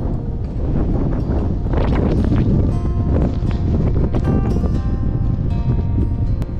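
Strong wind on Mt. Timbac roars and buffets the microphone continuously, a loud, steady rushing gust with no break.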